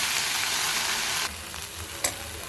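Broad beans and onion sautéing in a pan with chili, a steady close sizzle that drops a little in level partway through, with a brief stir clatter near the end.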